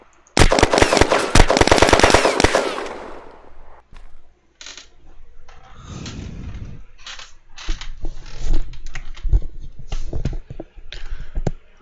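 Rapid automatic gunfire in the online shooter Red Crucible Firestorm, a loud dense burst in the first three seconds followed by scattered quieter clicks and game sounds with some talk.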